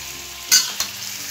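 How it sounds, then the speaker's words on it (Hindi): Chicken being stirred in a karahi pan for Balochi karahi, with a steady low sizzle broken by two brief, sharp scraping strokes close by. "अब हम इसको अच्छे तरीके से मिक्स करेंगे।"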